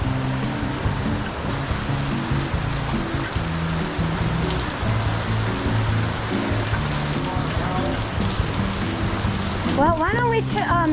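Steady rain falls on a beach, a dense continuous hiss with a faint undertone like surf, loud and unbroken throughout, with brief chirping or squeaky sounds near the end.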